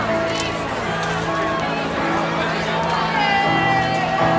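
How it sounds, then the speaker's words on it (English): A large festival crowd at Wireless 2014 roars in a loud, continuous wash of cheering and babble, with scattered shouts and whoops rising from it throughout. "I can hear the crowd in my ears"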